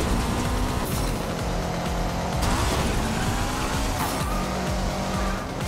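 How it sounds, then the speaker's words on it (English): Race car in MotorStorm: Apocalypse pulling a handbrake skid, loud tire squeal and sliding tires over a roaring engine, sustained for several seconds with surges, no talk. "Bit of a handbrake action here."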